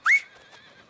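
A horse in the video game Red Dead Redemption 2 gives one short, rising neigh that trails into a fainter whinny, moderately close and heard alone without talk.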